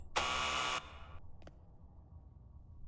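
A door buzzer in the stealth game Thief 2X: Shadows of the Metal Age, sounding once as a loud, harsh electric buzz for just over half a second, followed by a brief tail and a faint click over quiet room tone.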